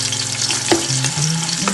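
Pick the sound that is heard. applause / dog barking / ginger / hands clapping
ginger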